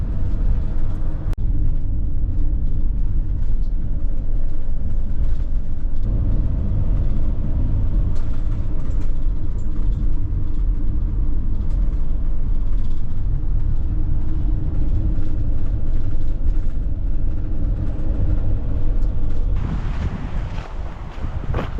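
A car drives up into Two Medicine in the fall. A steady, loud road rumble continues the whole time, heavily buffeted by wind noise, with no voices.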